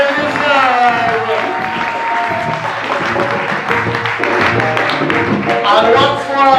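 Audience applause fills a hall at a youth music summer camp's grand closing ceremony: a sustained wash of clapping heard at moderate distance, with a voice speaking prominently over it.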